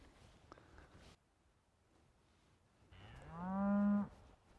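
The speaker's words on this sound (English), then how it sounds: "Happy enough to make them say, moo, because they're cows." A single cow moos on a ranch, one loud drawn-out call near the end, preceded by quiet rustling and faint outdoor background.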